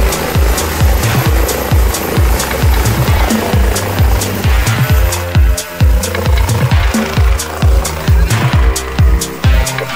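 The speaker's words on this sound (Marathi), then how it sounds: "थोड्या वेळासाठी एक हेलिकॉप्टरचा आपला शॉट बघा तुम्ही" A helicopter flies close and loud, its rotor beating in a fast, steady thumping rhythm with a constant engine whine throughout.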